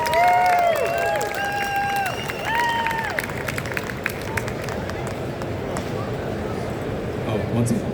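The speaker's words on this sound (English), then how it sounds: "give me your biggest round of applause for Steve Blum" An audience at a Collect-A-Con LA panel applauds and cheers to welcome voice actor Steve Blum, with steady clapping and crowd noise continuing throughout and a voice heard over it at the start.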